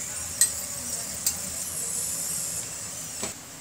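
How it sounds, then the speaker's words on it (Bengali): Garlic frying in a pan: a steady, soft, hissing sizzle with a few faint clicks of stirring, close and without talk. "রসুনগুলো ভেজে নিচ্ছি।"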